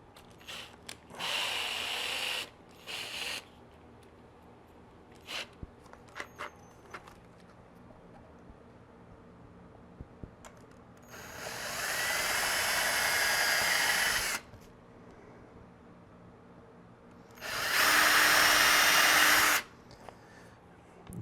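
A power drill with a small bit whirs into soft wood in two sustained bursts of a couple of seconds each, with shorter buzzes and small clicks and taps in between, while building a guitar.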